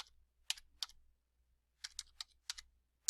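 Light keystrokes on a computer keyboard, a few isolated clicks followed by a quick cluster of taps, very quiet and close, no voices.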